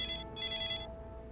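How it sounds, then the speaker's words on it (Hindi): A phone ringtone plays indoors, two bright electronic bursts of a repeating melodic tone, the second longer, fairly close and clear, then fading into quiet room noise. "ये तो फोन बज रहा है।"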